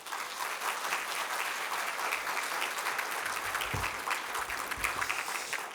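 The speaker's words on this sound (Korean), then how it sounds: "우리 목사님 나오실 때 큰" A church congregation gives warm, sustained applause to welcome the pastor at a Sunday worship service, an even wash of clapping with a couple of low thumps.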